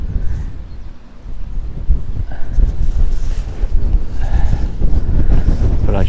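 Heavy wind buffets the microphone outdoors beside a river while fishing, a loud, continuous low rumbling roar with gusty surges and no voices over it.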